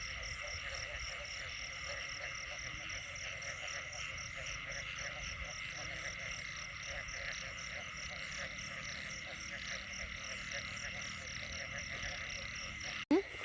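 A rainy night chorus of frogs croaks in rapid, repeating pulses over a steady wash of rain, moderately distant and unbroken, ending with a brief sharp knock close by.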